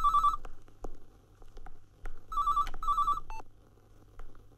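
A telephone rings indoors in a Hindi film scene, two short bursts of electronic trilling ring separated by a pause, moderately loud and close with faint background noise and no talk.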